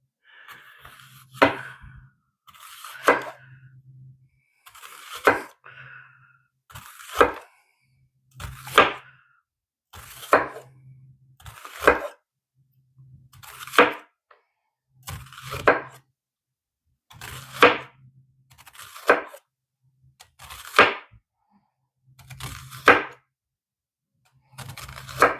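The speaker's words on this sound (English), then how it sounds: "Cutting onions, my favorite thing." A knife slices yellow onions thinly on a cutting board, with crisp, evenly spaced chops in a steady rhythm, each stroke followed by a short pause, heard close and clear.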